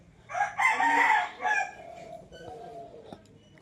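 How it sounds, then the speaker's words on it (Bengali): A rooster crows once, loud and nearby, followed by softer scattered clucking from large chickens in a quiet yard. "দেখেছেন কত বড় বড় মুরগি"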